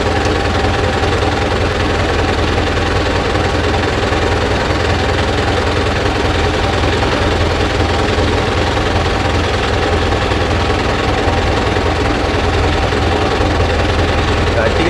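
Mahindra Arjun Novo 605 DI tractor pulling a rotavator through hard, dry soil. A loud, constant diesel drone with churning vibration runs without a break, and someone talks over it.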